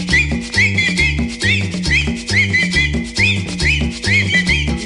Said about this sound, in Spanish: Y ahora chiflando todo